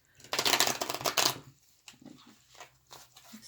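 A stiff tarot card deck is shuffled up close, a dense burst of rapid riffling and flicking that trails off into scattered softer card taps and slides.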